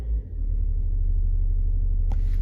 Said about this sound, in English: the idle was kicked up to like 1200 RPMs